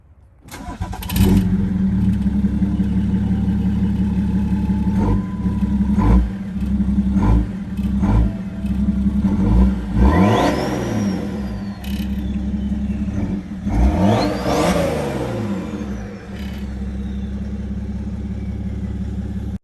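A BMW E60 535d diesel cranks and starts, then idles with a steady low rumble broken by several sharp revs that rise and fall, loud and close with no talking.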